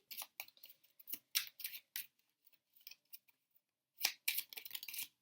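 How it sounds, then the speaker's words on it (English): Soft, crisp riffling and flicking of tarot cards in quick bursts, close and quiet, with short pauses between shuffles. "Okay, so I'm just going to grab the rest of the cards. Let's do shuffle."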